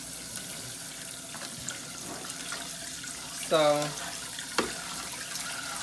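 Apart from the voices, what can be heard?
tap water rinsing rice in sink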